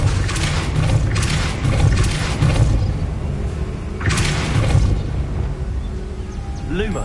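Depulso spell bursts in Hogwarts Legacy: two forceful whooshing blasts with thumping impacts, one at the start and another a few seconds later, loud over a busy game soundscape.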